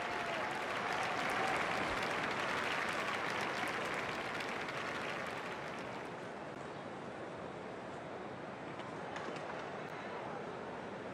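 Crowd applause in the Don Bradman Cricket 14 video game swells to a loud burst early on, then eases into a steady, softer wash of clapping and cheering that lasts to the end.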